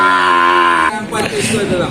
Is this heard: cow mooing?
yes